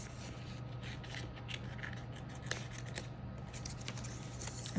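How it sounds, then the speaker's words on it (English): Small scissors snipping and rasping through a clear sticker for a mermaid-themed journal, with faint, close, irregular cuts over a steady low hum and no talking. "That's why I got these itty bitty scissors, so I can do some detail work."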